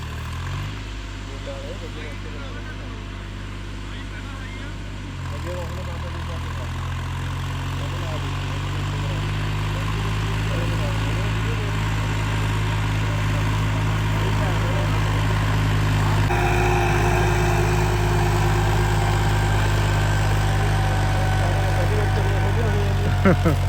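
A Massey 254 4x4 tractor engine idles at a steady, loud, continuous drone in a farm field, with people talking nearby.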